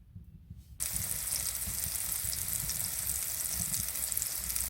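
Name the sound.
sausage frying on a Winnerwell hot tent stove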